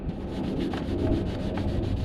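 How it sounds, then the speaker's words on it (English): Light hand sanding of a painted grille on a 2015 Jeep Wrangler JKU, a steady close scratchy rubbing with soft rhythmic strokes throughout, no voices. "So give it a quick light sand, scuff the paint a little bit."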